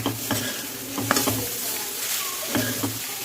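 Grated coconut fries in ghee as a spoon stirs it in a pan for coconut burfi, with a steady sizzle broken by several close scraping strokes over a few seconds.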